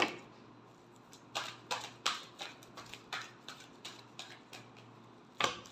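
Tarot cards being shuffled make a series of crisp, evenly spaced snapping flicks, close and clear over a low steady hum.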